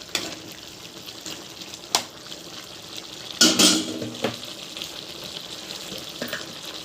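Chicken cooks in its own released water in a pan while being mixed, giving a soft bubbling, watery simmer with scattered louder scraping and sloshing bursts from the stirring, close up and without speech.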